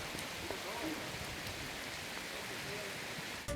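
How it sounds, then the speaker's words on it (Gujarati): Rain falls steadily over villages around Savarkundla in Amreli district, Gujarat, a soft continuous hiss of drops on surfaces, faint and even, with no clear voices. "સાવરકુંડલા અને આસપાસના ગામડાઓમાં વરસાદ."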